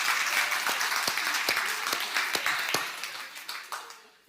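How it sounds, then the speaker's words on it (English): Applause from a live self-help event audience in London, steady dense clapping with a few louder sharp claps, fading out toward the end. "give yourself a round of applause"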